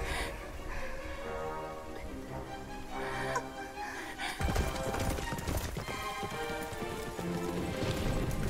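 Horses gallop in the video game Dragon Quest XI, with continuous rhythmic hoofbeats mixed with game music and ambient effects, moderately loud throughout, with a brief whinny-like burst midway and faint voice underneath.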